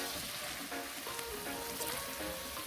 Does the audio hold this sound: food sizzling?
yes